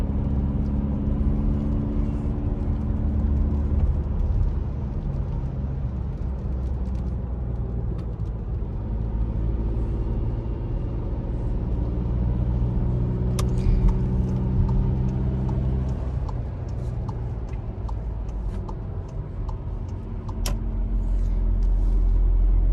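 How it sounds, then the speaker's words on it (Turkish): A driving school car accelerating in third gear on the road, its engine a loud, steady rumbling hum rising and falling in pitch as it gains speed, with no voices over it. "Dilan hızlanıp 3. vitese alalım"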